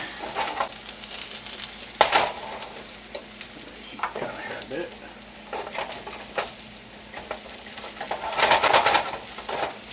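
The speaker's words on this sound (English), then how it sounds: "Look at that sizzling." Steady frying sizzle in a cast iron skillet with occasional stirring clatter, a brief spoken remark over it.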